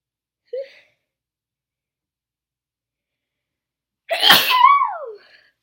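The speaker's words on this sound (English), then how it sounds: "I have to sneeze." One loud, sharp sneeze bursts out close by, trailing into a falling exhale, after a brief soft intake of breath and a long silence.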